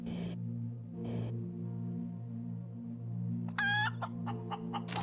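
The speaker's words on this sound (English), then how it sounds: "And I have a chicken." A chicken in the space survival game Breathedge clucks a few times near the end, short bright calls over a steady low hum and a couple of earlier soft bursts.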